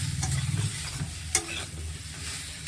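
Spices being stir-fried with egg, tomato and potato in a wok, giving a quiet, steady sizzle over a low hum, with one sharp utensil scrape partway through and no voices.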